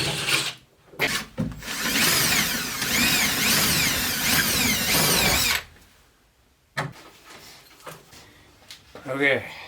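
Power drill running in one sustained, loud whine while boring around the perimeter of a van, then short bursts of drilling and handling noises; voices speak briefly before and after.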